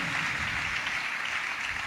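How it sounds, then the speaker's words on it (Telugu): A church congregation claps together during a pastor's sermon, a brief, continuous wash of hands at a steady level. "చప్పట్లు కొడదాం అందరూ"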